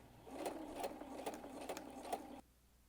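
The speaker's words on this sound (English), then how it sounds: "I'm doing the largest stitch on my machine" A sewing machine runs steadily on its longest basting stitch, sewing a temporary seam on a skirt yoke, its needle thumping in a quick regular rhythm close by before stopping abruptly.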